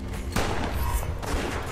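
Shotgun blasts in the video game West of Dead, a few sharp bursts of gunfire over a busy game soundtrack, loud and close, with no talk.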